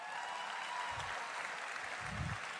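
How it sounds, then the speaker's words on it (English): Quiet, distant audience applause at a political dinner, a steady wash of clapping heard from far off with no voices standing out. "Let's have a round of applause for her."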